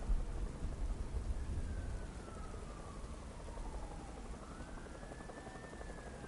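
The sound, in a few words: rain in the video game Batman: Arkham Knight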